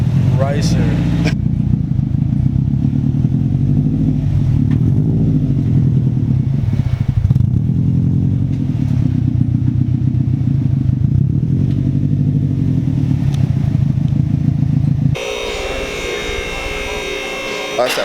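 A Subaru STI idles and revs through its exhaust before a mid-pipe install, a steady loud rumble with throttle swells that carries on under people talking.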